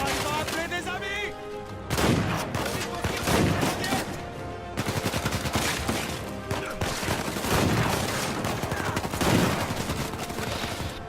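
Rapid gunfire bursts and shots from the video game Uncharted 4, dense and continuous across the whole stretch, with voices talking over the shooting.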